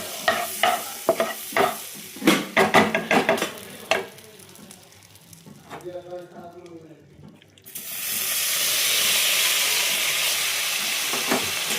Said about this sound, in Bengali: বাটার দিয়ে পনির দিয়ে কিন্তু একটু হালকা করে আমি ভেজে নেব